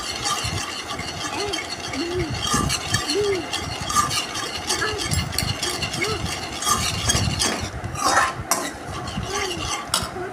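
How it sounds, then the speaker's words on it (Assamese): Spatula stirring atta laddoo mix with ghee in a pan, a steady run of scraping and clinking strokes with a faint sizzle, close and moderately loud, with no talking. "হেতাৰে লৰাই আছোঁ"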